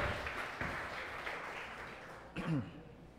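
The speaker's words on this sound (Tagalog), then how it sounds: "The best pong palakpak para kay Jesus." A church congregation applauds for Jesus during a Sunday service, steady clapping filling the room at moderate loudness, with a brief voice breaking through near the end.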